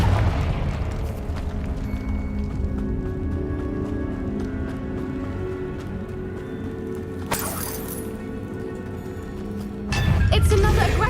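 Confringo fire spell blasts in Hogwarts Legacy, sharp bursts near seven and ten seconds over a continuous bed of game music and ambience, with a voice speaking.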